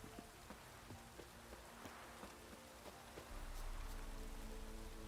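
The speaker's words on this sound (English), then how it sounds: "I'm sick and tired of all this rain." Rain falls in the video game The Witcher 3 as a faint, steady patter with scattered drop ticks, alone with no voices.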